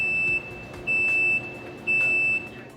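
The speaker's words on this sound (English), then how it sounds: "A beeper will sound after the bake timer times out." Electronic beeper on a Baxter OV500 rotating rack oven signaling the end of the bake timer: three steady, loud, high-pitched tones, each about half a second long, repeating at an even one-second interval over a low hum.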